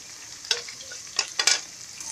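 Boiled pork ribs added to a pot for spinach and bean stew, a soft sizzle under a few sharp scraping stirs and clatters, brief and close.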